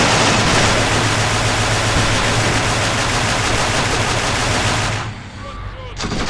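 Sustained machine gun fire from the Achtung Panzer war game, a dense continuous roar of rapid bursts for about five seconds, then abruptly cutting down to quieter distant shots.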